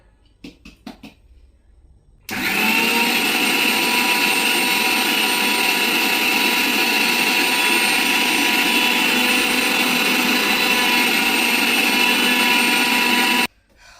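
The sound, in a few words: electric blender grinding spices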